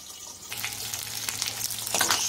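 Tengra fish frying in mustard oil in a covered pan, a close hissing sizzle with crackling spits that grows louder toward the end, with no talk.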